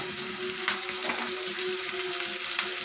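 Chopped onion, green chilli and curry leaves fry in oil with a steady close sizzle and soft crackle, with a few faint stirring scrapes and no voices.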